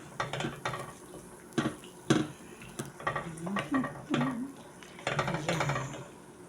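A pot of vegetables with mustard greens bubbles softly on the stove, broken by scattered clinks and scrapes of a utensil stirring against metal.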